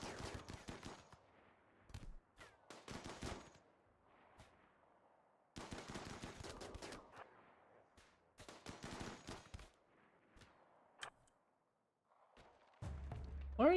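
Bursts of automatic gunfire from a RimWorld firefight, several rapid volleys separated by short pauses, with thuds and a quieter stretch near the end.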